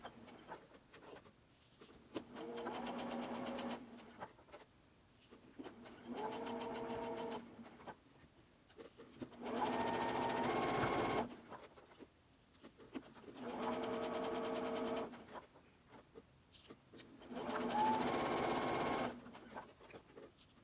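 A home sewing machine stitches a barn quilt block in five separate bursts of steady whirring, each a couple of seconds long, with quiet pauses between them and no talking.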